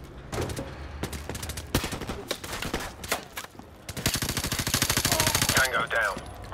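Shotgun blasts and gunfire in the Modern Warfare Remastered campaign, separate heavy shots early on building into a long rapid automatic burst, loud and close, with voices speaking in between.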